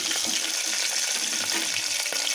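Green chilies frying with cinnamon and cloves in hot oil in a pan for bagara rice, a steady, loud, close hiss of sizzling without pause.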